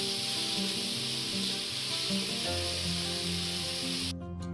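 Boiled potato pieces and chicken mince sizzle steadily in a pan for ghugni, a continuous hiss with faint stirring underneath and tonal background music, cutting off abruptly near the end.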